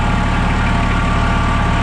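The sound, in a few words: tractor engine idling on a farm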